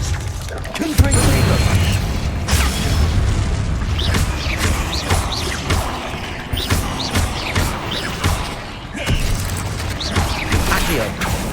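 Confringo blasting spells in Hogwarts Legacy game, with a loud boom opening the moment and further bursts, creaks and mechanical clatter following over dense game sounds, alongside speech.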